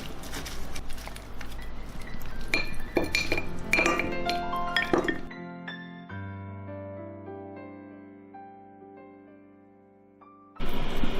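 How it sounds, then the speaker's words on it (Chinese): A dish of marinated chicken feet with cilantro and fried peanuts is stirred, giving a string of clinks and scrapes of utensil on the bowl, followed by a lingering ringing tone that fades before the clinking briefly resumes. "搅拌一下就可以吃啦"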